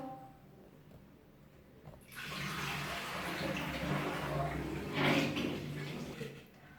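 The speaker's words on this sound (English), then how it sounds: "You don't need this water also. So I'm going to pour it off." Water gushes and splashes steadily for several seconds, like a basin being emptied, rising briefly louder near the end.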